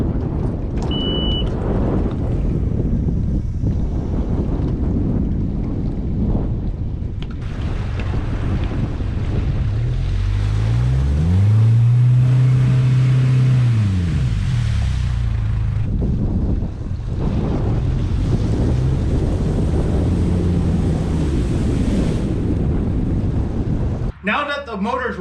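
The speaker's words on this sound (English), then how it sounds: "the first thing I have to do to change the oil out of this outboard is to warm it up" A 65 HP Mercury jet outboard motor warms up with a steady low engine drone and strong wind rumble throughout, its pitch rising and falling in the middle, close and loud.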